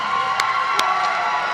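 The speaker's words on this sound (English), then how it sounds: "The crowd goes wild." Crowd at a Carolina Carnage group fight event cheering and roaring steadily, with a couple of sharp bursts standing out above the continuous wash of noise.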